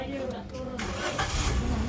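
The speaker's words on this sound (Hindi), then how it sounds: "गाड़ी को जो है ना अभी सेल्फ लगा रहे हैं" A car engine cranks on the self-starter with the gear in neutral and catches into a low, steady running rumble, close and fairly loud.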